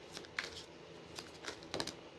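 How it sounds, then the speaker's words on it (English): Tarot cards shuffled by hand, soft papery riffles and flicks in a few quiet bursts, close and faint, with no talking. "I know this shuffle takes a while, but this is the way it wanted to go."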